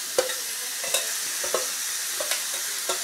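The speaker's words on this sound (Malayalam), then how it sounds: "നമ്മൾ നേരത്തെ തയ്യാറാക്കി വെച്ചിട്ടുള്ള മാങ്ങ ചേർത്ത് കൊടുക്കുന്നു" Mango pieces stirred into hot chili-spiced oil for mango pickle: a steady close sizzle with regular scraping strokes of a spoon against the pan, about five in three seconds, and no talk.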